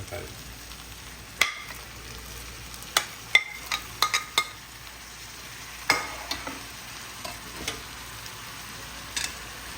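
Onions and tomatoes sauté in a pan for a beef leg curry, with a soft steady sizzle and scattered sharp clicks and scrapes of stirring, close by with no talking.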